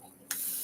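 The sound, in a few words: continuous sprayer spraying water on a watercolor palette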